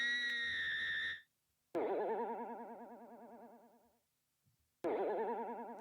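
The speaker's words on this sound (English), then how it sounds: "Springy kangaroo." A cartoonish springy kangaroo boing from a Twitter Spaces soundboard: two loud wobbling, vibrato-laden boings after a brief opening tone, each stretching over a second or two with short silent gaps, no talking.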